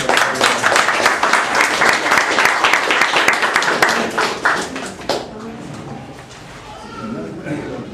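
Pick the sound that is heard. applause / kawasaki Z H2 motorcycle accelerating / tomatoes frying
applause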